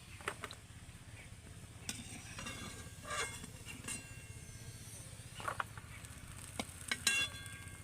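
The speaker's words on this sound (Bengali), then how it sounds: "আর একটু করে এরকম চামচ দিয়ে নাড়িয়ে দেব রসের মধ্যে এইভাবে" A spoon stirs freshly fried gulab jamun in sugar syrup, with faint clinks and scrapes against the pan over a low steady background hum, quiet and close.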